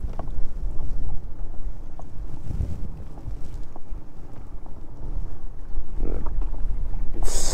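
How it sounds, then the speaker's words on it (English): Strong, steady wind buffets the microphone on a mountain lake during kayak fishing, a continuous loud roar with gusts and faint water sounds underneath and no talking. "Whew, that wind."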